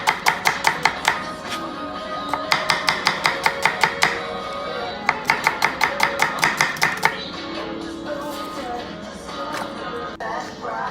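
A knife slices onions on a cutting board in quick rhythmic runs of sharp taps, several bursts of about eight to ten strokes each, close and crisp, with a short pause between runs.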